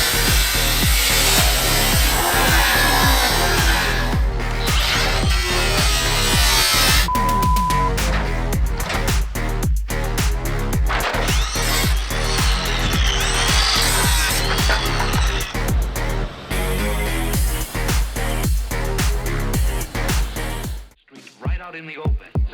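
An angle grinder cuts metal with a loud, harsh, continuous whine, broken by brief pauses and chattering bursts as the disc bites, close by and filling nearly the whole stretch before stopping.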